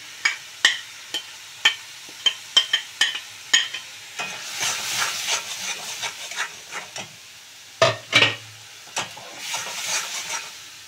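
A spice paste of chilli, turmeric, cumin and coriander powders with salt and sugar fries in oil for a prawn malai curry, with sharp scraping stirs and bursts of close, loud sizzling.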